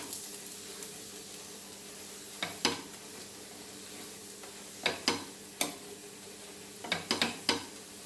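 Goan plain chapati frying in ghee or oil on a hot pan: a low, steady sizzle runs throughout, broken by scattered sharp clicks and scrapes from the turner, with no voices.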